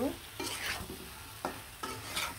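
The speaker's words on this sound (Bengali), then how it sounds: "আর এখন দিয়ে দিব দিয়ে রাখা টমেটো, আলু, কালো বেগুনগুলো দিয়ে কিন্তু ভালোভাবে কষিয়ে নিব।" Spice paste with tomato, potato and eggplant stir-fried in a pan, a steady sizzle broken by several scraping stirs of the spatula, close and clear with no talking.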